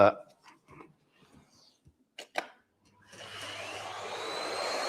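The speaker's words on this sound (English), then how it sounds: "vacuum noise warning for anyone with headphones." A vacuum cleaner starts up and runs steadily with a broad whooshing hiss and a rising whine, after a few quiet clicks and brief sounds.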